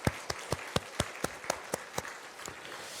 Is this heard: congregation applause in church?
yes